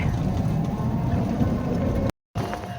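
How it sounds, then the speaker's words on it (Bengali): A motorcycle rides past along a village road near fish farms, its engine a steady, fairly loud drone throughout with a brief cut near the end. "এই যে রোহান মোটর সাইকেল দিয়ে যাইতেছে।"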